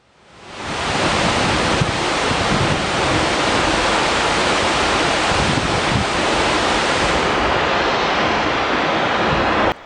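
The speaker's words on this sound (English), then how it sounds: "Seljalandsfoss, also known as Seljalands Waterfall, is a splendid waterfall that can be found in the southern Iceland." Seljalandsfoss waterfall in southern Iceland roars as a steady, loud, close wash of falling water, unbroken and dense from start to finish, with some wind buffeting and no voices.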